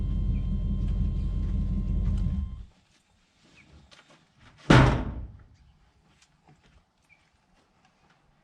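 A loud LS-swapped Camaro engine rumble cuts off, then after a short pause a single solid car door thunks shut nearby in a shop, followed by quiet.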